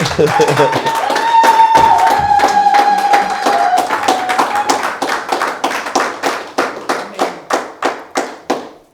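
A church congregation applauds for a mother, the dense clapping thinning over the final seconds into a slower, rhythmic beat of separate claps, with voices and sustained tones beneath at first.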